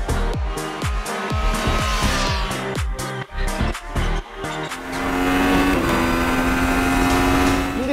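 A 2023 Triumph Street Triple sport motorcycle engine revs sharply through a series of rapid throttle blips, then accelerates into a sustained high-pitched roar, loud and close.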